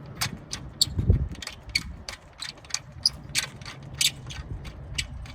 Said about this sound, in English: And you screw that big screw, hopefully, into that.